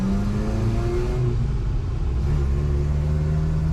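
A Toyota truck engine runs steadily in first gear with a deep low rumble and a mid-range drone, continuous and close, with no voices.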